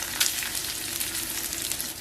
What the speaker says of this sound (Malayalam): അപ്പൊ നമ്മൾ തേങ്ങ നന്നായിട്ട് വറുത്തെടുത്തിട്ടുണ്ട്